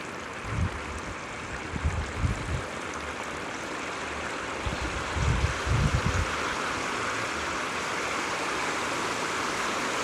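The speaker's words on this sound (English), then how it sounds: "Oh, look at all that maple syrup bubbling." Bacon strips coated in maple syrup frying in a pan, a steady loud sizzle and bubbling hiss with a few low thumps and pops.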